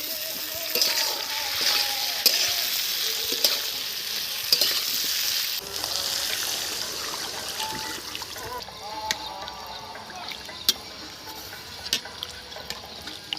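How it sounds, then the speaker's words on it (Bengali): Onions and tomato frying in a pan at an outdoor village cooking setup, a steady hiss of sizzling oil with scraping stirs and occasional clicks throughout, fairly close. "পেঁয়াজ ভাজা হয়ে গেছে খুব সুন্দর, একদম নরম করে হয়ে পেঁয়াজটা ভাজা হয়ে গেছে। এখন আমি টমেটোটা দিয়ে দেব।"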